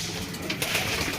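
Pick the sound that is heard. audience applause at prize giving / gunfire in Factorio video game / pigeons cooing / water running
pigeons cooing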